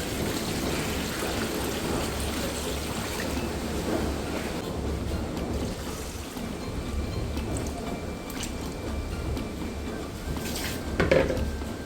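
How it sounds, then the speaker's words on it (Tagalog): Water poured into a pot of cow skin, a steady close stream and trickle running throughout with light clinks of the pot and utensils, no voices. "Lagyan natin ng water."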